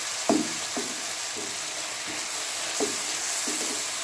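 A spoon scrapes and turns a spicy chicken vegetable pasta mixture with tomato and black pepper in a pan, several spaced scrapes over a constant soft sizzle, close by and with no voice.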